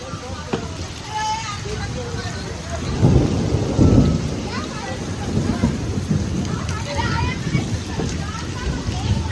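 Heavy rain pours steadily while a deep thunder rumble rolls through midway; voices can be heard faintly under the downpour.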